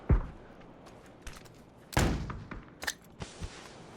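In a PUBG match, a flashbang grenade goes off among scattered gunfire. Sharp cracks and a loud burst land in the middle of the clip, followed by smaller shots and thuds at moderate distance.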